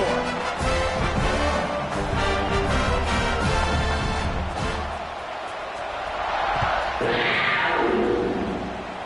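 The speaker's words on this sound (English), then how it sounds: "this crowd is buzzing after that last score" Football stadium crowd after a score, a dense roar of many voices with thumps and swells rising and falling, loud and continuous.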